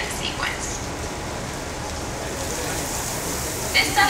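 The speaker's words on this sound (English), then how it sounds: "This sudden shower is really just a special effect. We've rigged up a series of water nozzles just above your tram." Simulated rain pours from overhead water nozzles onto a studio backlot tram set, a steady, loud, dense hiss of falling water continuing throughout, with a few brighter splashes near the end.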